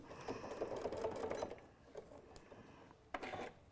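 A sewing machine stitches down square Velcro patches, quick bursts of rapid mechanical chatter broken by short pauses and clicks for pivoting, close and fairly quiet.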